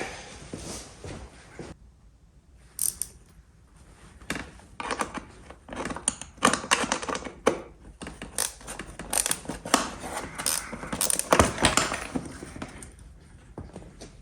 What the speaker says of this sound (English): I think a 13mm ratchet spanner.